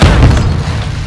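A grid charge detonates in Call of Duty: Modern Warfare 2, one loud, deep boom that rumbles briefly and fades within about a second.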